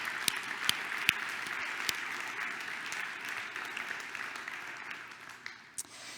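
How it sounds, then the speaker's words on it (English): Applause from an audience at a scientific society's presidential address, honouring a group of award winners; fairly soft, distant clapping with a few sharper individual claps standing out, slowly thinning toward the end. "I want you to please give a huge round of applause to Magdalena, Emily, Olivia, Paul, Zabibu"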